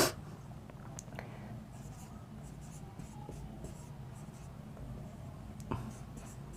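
A pen scratches steadily across paper during a Hindi lesson, a faint, continuous writing sound close by with occasional small taps and no clear speech.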